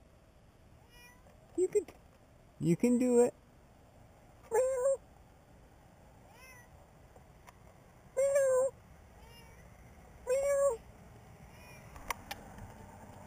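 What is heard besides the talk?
small cat meowing up in a tree at night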